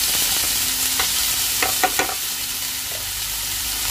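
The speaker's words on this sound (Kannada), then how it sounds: "ಒಂದು ಸ್ವಲ್ಪ ಒಂದು ನಿಮಿಷ ಹೀಗೆ ಕೈಯಾಡಿಸ್ತಾ ಹುರ್ಕೊಂಡಿದ್ದೀನಿ" Stirring in a pan with a little oil, a spoon scraping in a few short clustered strokes over a steady low sizzle, close and moderately loud.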